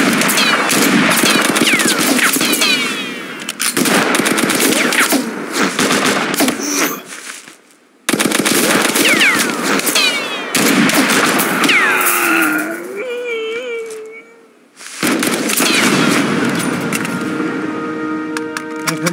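Machine guns fire in long sustained bursts in the video game Mud and Blood, with dense rattling volleys and other battle noise mixed in. Two short gaps break the firing and a voice is heard faintly.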